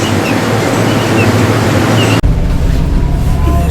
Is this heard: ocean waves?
yes